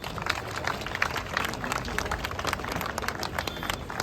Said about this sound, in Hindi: आइए हम माताओं के लिए भी जोरदार तालियां बजा देंगे।